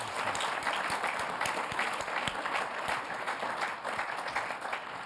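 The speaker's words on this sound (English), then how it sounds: "Please join me in giving a round of applause to our three journalists." An audience applauds a panel of three journalists at the close of a criminal justice and press discussion, a continuous fairly quiet wash of clapping heard at some distance with a few sharper claps standing out.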